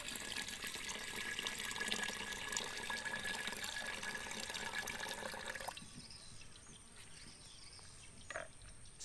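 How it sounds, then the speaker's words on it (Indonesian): Water running steadily into a mixture, a constant broad splashing pour that stops partway through and leaves a quieter hiss and a faint clunk. "tambahkan air."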